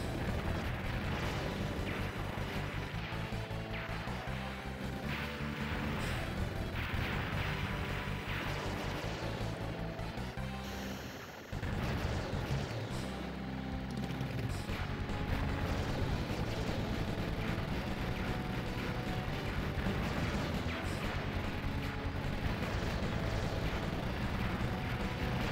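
Explosions in the shoot-'em-up video game DoDonPachi II Bee Storm, a dense, loud, continuous barrage of blasts and crashes layered over game music, with a brief dip midway and no talk.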